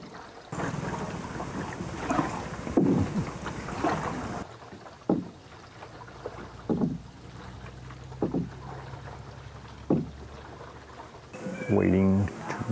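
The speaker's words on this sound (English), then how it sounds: "taking a boat ride, which is kind of expensive when you're alone" A boat ride to a lagoon on Siargao, with a steady low motor hum and rushing wind and water buffeting the microphone, interrupted by brief thumps, while voices talk intermittently.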